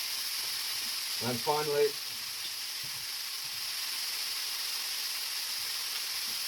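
Onions and carrots sizzle steadily in a frying pan for a homemade Italian lasagna ragu, a constant bright hiss throughout, while a voice briefly speaks over it near the start.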